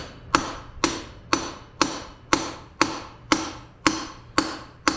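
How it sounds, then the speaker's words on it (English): A hammer strikes a tool to drive out a Dana 44 axle seal, ten sharp metallic blows at a steady rhythm of about two per second, each ringing briefly, close and loud. "Got a little hammer action going"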